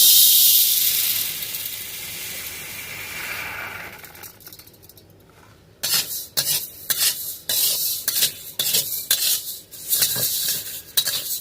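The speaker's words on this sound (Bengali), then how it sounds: "মুগ ডালটা আমরা একটুখানি শুকনো কড়াইতে হালকা ভেজে নেব।" About 250 grams of moong dal being dry-roasted in a dry wok hiss softly at first, then give way to brisk, irregular scraping and rattling strokes as a utensil stirs the lentils across the metal.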